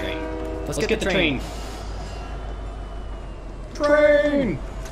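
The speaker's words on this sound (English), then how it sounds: "No, that's just the train." A train passing in the video game Fortnite, its horn sounding in two loud drawn-out blasts with a falling pitch over a low rumbling hum, while voices talk throughout.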